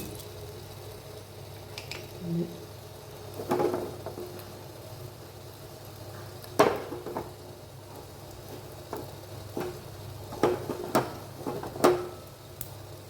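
Mustard seeds splutter in hot oil while tempering for a green gram curry, giving scattered sharp pops and crackles over a soft, constant sizzle.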